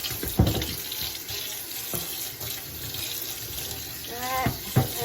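Running water pours from a tap to rinse the lint filter of a GE UltraFresh clothes dryer, a close, continuous splash and trickle over a sink with occasional knocks and sloshes.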